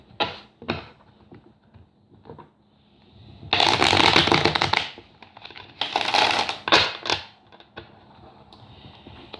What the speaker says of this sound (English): But let me just shuffle